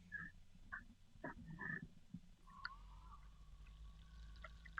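Air bubbles gurgling in a Montech HyperFlow 360 AIO cooler pump, faint intermittent blips and trickles over a low steady pump hum, close and quiet.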